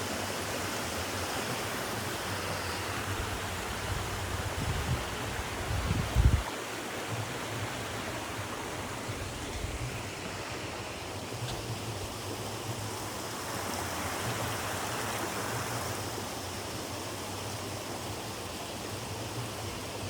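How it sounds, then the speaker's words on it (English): A tiny runoff creek spills into a larger main creek outdoors, giving a steady, broad rushing of water that holds even for the whole stretch, with a few brief low thumps near the start. "It's like some runoff coming from up there. A little tiny mini creek running off into the main creek."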